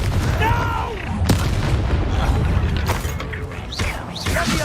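Confringo blasting spell in Hogwarts Legacy, heavy booming explosions and crackling impacts in a chaotic fight, with faint combat sounds and a brief voice mixed in.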